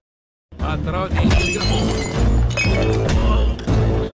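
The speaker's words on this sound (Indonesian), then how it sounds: "memukulnya dari belakang dengan sebuah botol" A glass bottle is smashed over a man's head in a film fight, several sharp crashing shatters and clinks in quick bursts with dramatic music and voices mixed in.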